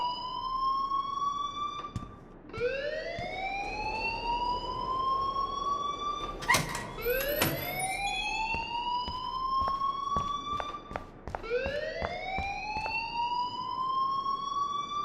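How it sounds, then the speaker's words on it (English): A school fire alarm in the Life is Strange video game sounds as repeated rising siren-like sweeps, steady and prominent, cycling every couple of seconds. "please turn off that alarm since that's your job"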